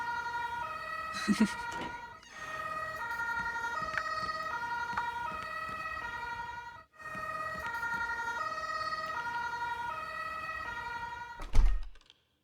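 Sirens wail in the horror video game Welcome, Dear Human, a repeating warbling tone with layered pitches that cuts out briefly twice, punctuated by a thunk early on and a loud thump near the end.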